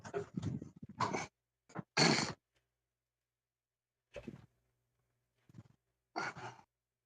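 Heavy breathing and snorting come in short, loud, irregular bursts separated by silence, with close, breathy sighs and puffs.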